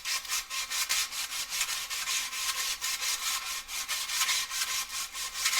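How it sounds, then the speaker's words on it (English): A drag bike part sanded by hand with sandpaper, a close, rhythmic back-and-forth rasping in quick even strokes that runs steadily throughout with no voices. "Trying to squeeze the sandpaper."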